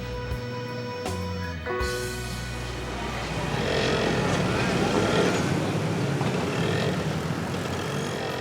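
Busy Bangkok street traffic, a dense wash of cars and trucks rumbling past, growing louder after a few seconds and then holding steady.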